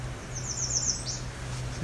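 A single quick, high American Redstart fast song rings out once, fairly faint, over a steady low outdoor hum at Alvar Bay.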